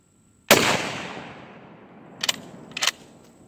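A single sharp rifle shot cracks out loud and close, its report trailing into a long decaying echo, followed by two brief metallic clicks of the action being worked.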